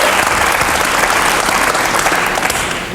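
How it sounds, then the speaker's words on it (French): Studio audience applause on a French television show, a dense, loud wash of clapping that holds steady throughout and tapers slightly at the end. "Merci pour les applaudissements."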